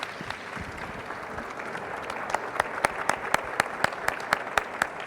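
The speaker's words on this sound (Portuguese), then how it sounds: "pedir uma salva de palmas para vocês" Audience applause at a social tourism event, a broad wash of clapping from a crowd that builds into sharper, more distinct claps toward the end.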